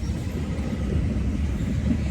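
Passenger train on a long African rail journey, heard from onboard as a steady, moderately loud low rumble and rattle of the carriage rolling along, with no talking.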